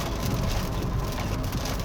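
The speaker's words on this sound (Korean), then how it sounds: "터널을 지나고 나와보니 비가 오고 있습니다." Steady rain drums on a Kia Morning as it is driven out of a tunnel, a dense, even wash of droplets on the body and glass with road rumble underneath, close and continuous, with no voices.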